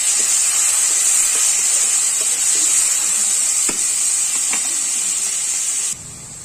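Chopped tomatoes hit hot oil tempered with mustard seeds and curry leaves for Chhattisgarh idhar sabzi, giving a bright, steady sizzling hiss with a few soft pops. The hiss drops sharply near the end.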